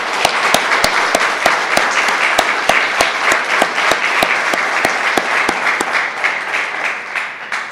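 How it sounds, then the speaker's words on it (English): A crowd at an honor ceremony at Brockton City Hall applauds steadily, many hands clapping in a dense, sustained patter with a few sharper individual claps standing out, fading slightly at the end. "But let's first just give a round of applause."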